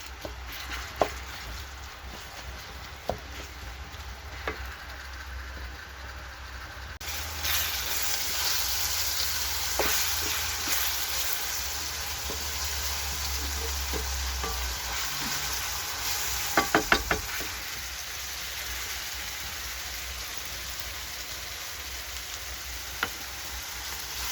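Three large onions frying for mehir soup, a soft hiss that swells into a louder steady sizzle partway through, with occasional faint clicks and stirring knocks and no talking.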